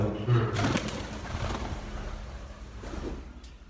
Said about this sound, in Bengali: অনেক শিকারী কবুতর